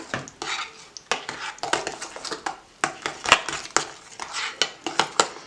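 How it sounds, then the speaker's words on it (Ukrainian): Strawberry cheesecake mixture being stirred in a bowl, with a utensil scraping and clinking against the sides in a steady run of close, fairly loud strokes. "Добавляємо до нашої полуничної маси. Гарно перемішуємо."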